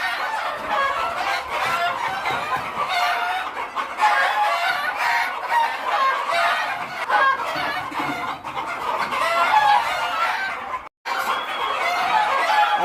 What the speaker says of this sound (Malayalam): ഇഷ്ടം പോലെ കോഴികളാണ്.